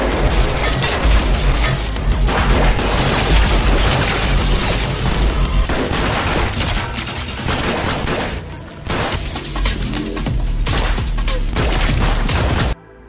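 Film gunfight with a continuous heavy exchange of gunfire, loud, dense cracks and booms overlapping without pause for most of the stretch, then cutting off abruptly.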